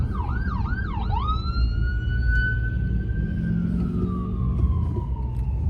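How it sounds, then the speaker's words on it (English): An ambulance siren wails, sweeping up and down a few times, then holds a long steady tone that slowly falls away, over low traffic rumble. "somebody needs an ambulance"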